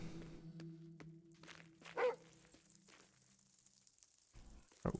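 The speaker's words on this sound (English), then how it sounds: "What are you barking for?" A dog barks in a video game, a few short sounds spaced out over quiet background music, with a louder burst near the middle and another at the end.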